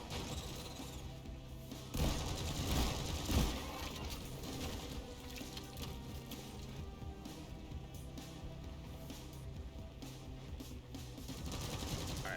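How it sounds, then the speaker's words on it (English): A slug shotgun fired in the video game Deep Rock Galactic, its heavy blasts near the start standing out from a dense, continuous wash of game noise and music. "So essentially, I've turned this thing into a slug shotgun."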